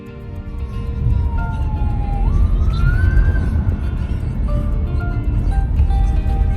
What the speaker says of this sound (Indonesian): ambulan lalu lalang ya.